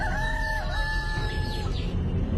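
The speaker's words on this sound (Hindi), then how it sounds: "ये किसी गांव के मुर्गे की बांग थी।" A village rooster crows from a distance, its drawn-out call rising and falling over about two seconds against a steady background hum with no one speaking.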